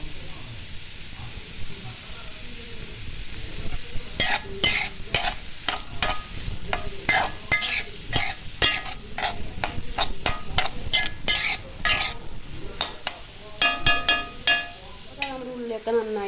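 Paneer curry ingredients are sautéed with salt in a pan. A faint background sizzle runs throughout, and after a few seconds comes a run of sharp, rhythmic spatula scrapes and taps against the pan.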